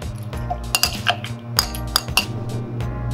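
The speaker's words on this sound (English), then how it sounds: "Start off with two lychees in your shaker tin. Using a muddler or a spoon," A muddler or spoon squishing two lychees inside a metal shaker tin for a gin cocktail, heard close up as a run of sharp metallic clinks and knocks in an irregular rhythm with no talking.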